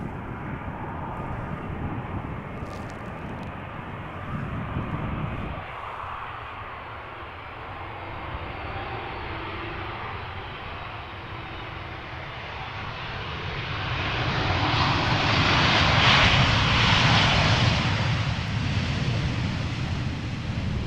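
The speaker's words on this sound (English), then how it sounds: "this is Speedbird flight 430, arriving from London Heathrow, A320" A 20-year-old British Airways Airbus A320 arriving from London Heathrow at Amsterdam Schiphol in crosswind and showery weather, its engine roar building steadily from a distant rumble to a loud, broad jet whoosh as it passes.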